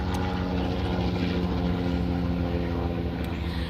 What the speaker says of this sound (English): Here comes a helicopter.